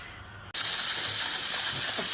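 After a brief low hum, a loud, steady hiss of escaping steam from a pressure cooker cooking chickpeas bursts in suddenly and continues unbroken, close by.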